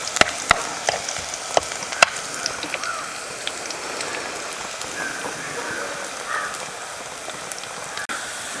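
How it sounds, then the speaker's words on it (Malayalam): Onions sautéing in a pan for a pappadam thoran, a light crackling sizzle with scattered sharp pops and spatula clicks, fairly quiet and steady. "ഉള്ളി ഒന്ന് മൂപ്പിച്ചെടുക്കാം."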